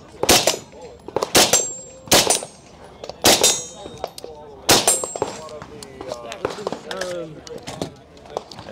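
A .223 rifle fires at an outdoor range, several sharp cracks spaced irregularly a second or so apart, with people talking in between the shots.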